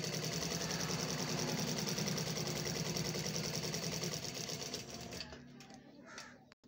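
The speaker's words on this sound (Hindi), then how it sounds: "ये आप देख रहे हैं बटन टेक लग रही है।" A sewing machine stitches a button tack on a garment, running as a steady, dense, rapid mechanical whir and clatter for about five seconds before slowing and stopping, close and loud with no talk over it.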